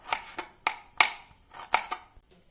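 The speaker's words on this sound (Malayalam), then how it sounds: "അത് നമുക്ക് ചെറുതായിട്ട് അരിഞ്ഞിട്ട് പൈനാപ്പിളിലേക്ക് ഇട്ട് കൊടുക്കാം" A knife chops a piece of ginger into small bits on a board, with about six sharp, close knocks in an uneven rhythm and quiet gaps between them.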